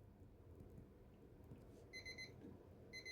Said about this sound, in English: Oh, my timer.